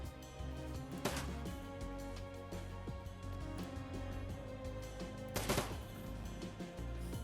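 Gunfire in the video game Shadowrun: Dragonfall comes as two short, crackling bursts several seconds apart over a layered musical background.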